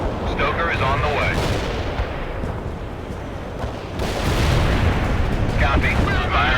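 Artillery fire in World in Conflict, with heavy rumbling barrages and booming impacts rolling continuously across a loud battlefield while radio voices speak over it.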